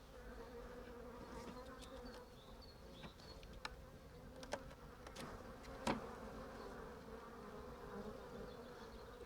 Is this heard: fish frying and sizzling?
no